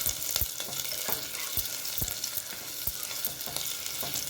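Cashew nuts frying in a pan of hot oil for vegetable pulao, a steady bright sizzle with periodic sharp clicks and scrapes of stirring, close and alone.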